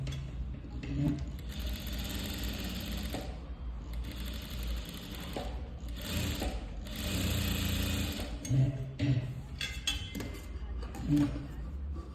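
Sewing machine stitching a Madhubala-style blouse, running in rapid whirring bursts with short pauses and clicks between runs, close and clear.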